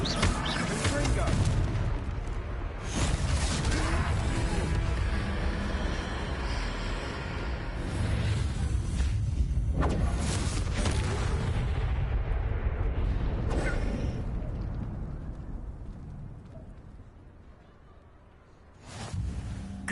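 Spell blasts from a Harry Potter-style video game, Confringo explosive curse hitting a troll: repeated loud booming bursts over a dense battle din, with voices and game sounds throughout.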